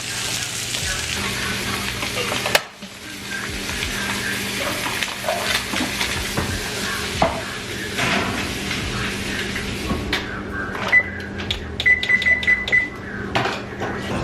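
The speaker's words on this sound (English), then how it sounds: "So I am gonna let this just continue to sear on the direct heat for another 30 seconds" Salmon sears in a pan on direct heat, with a steady sizzle and occasional clinks of utensils against cookware, near and moderately loud.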